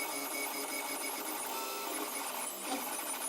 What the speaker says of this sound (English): I've slowed this printer down quite a bit here